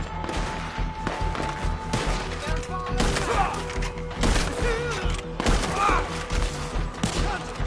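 Heavy gunfire in Red Dead Redemption 2: dense volleys of shots and thuds crackling close and loud throughout a firefight, with shouted voices mixed into the din.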